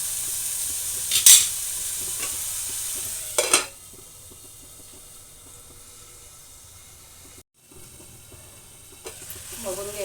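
Red pumpkin bhaji cooks on low gas in a pan, a soft steady sizzle broken by a few sharp scraping stirs, with a brief voice near the end.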